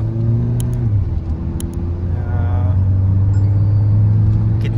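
A Volkswagen Virtus GT and a Mahindra XUV700 diesel automatic accelerate hard in a 400-metre drag race, engines droning loudly nearby, one shifting gear early and then pulling steadily with rising pitch, with sharp brief clicks over the top.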